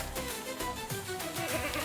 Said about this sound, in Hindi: रोहान बहुत शरारती लड़का था, जो सारा दिन हाथों में लाठी लिए अपनी भेड़ों के साथ गांव में घूमता रहता था